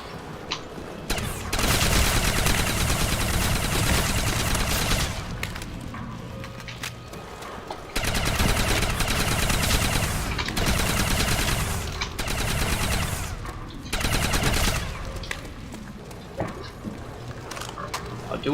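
World War II-era weapons firing in the World at War video game: bursts of automatic gunfire in long sustained stretches, broken by brief pauses, loud and close throughout.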